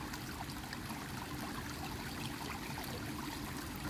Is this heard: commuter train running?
no